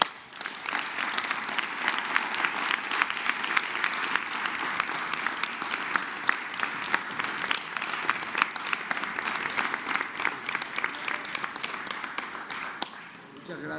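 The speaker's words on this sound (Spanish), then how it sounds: "Un aplauso a las mujeres." An audience applauds the women at a Mexican presidential morning press conference, with steady, dense clapping that runs unbroken for about fourteen seconds at full strength before easing off at the end, with scattered sharper claps standing out.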